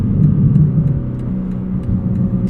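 A 2024 BMW M3 CS engine pulls hard on a night drive, a loud steady mid-pitched roar heard from inside the car, rising slightly with no speech over it.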